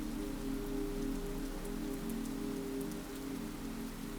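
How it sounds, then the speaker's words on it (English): Rain tapping steadily against windows and an old slate roof, a dense, even patter with a low constant hum beneath, with no voices. "The rain doesn't disappear."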